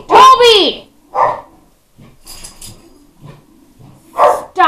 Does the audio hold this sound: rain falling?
no